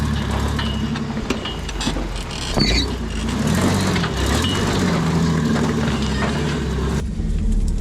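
A rock crawler drives around a yard, its engine a steady rumbling drone while tires crunch and snap over ground and twigs, close and continuous, with a brief louder knock partway through.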